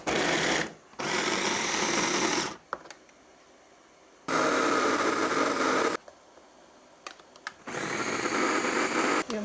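Garlic cloves ground finely in an electric grinder, three loud whirring bursts of steady buzzing motor noise separated by short pauses, close and with no talking.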